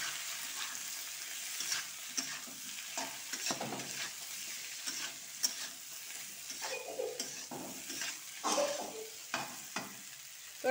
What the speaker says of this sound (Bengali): এখন দিয়ে দিলাম মরিচ, মরিচের গুঁড়া, নাড়িয়ে নিব।